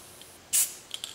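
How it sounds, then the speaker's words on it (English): A spray paint can releases one short, bright hiss of mist onto a stencil, close and alone, followed by a couple of faint little sputters. "I'm going to make sure to spray directly down on it to get that mist"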